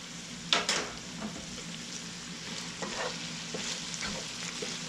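A vegetable chop mixture fries in a pan, sizzling steadily at low volume while a utensil stirs it with a few soft scraping knocks early on.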